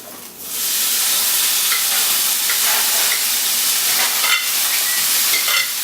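Garlic and tomatoes hit a hot pan of pasta and olive oil, bursting into a loud, dense, steady sizzle that hisses on without pause.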